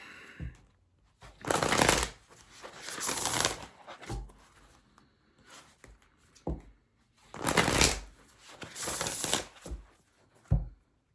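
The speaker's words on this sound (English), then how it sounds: "I want to pull an oracle card from the Earth and Bone Oracle" An Earth and Bone Oracle card deck being shuffled by hand in several distinct bursts of riffling and flicking, separated by short pauses and soft taps, close and clear with no talking.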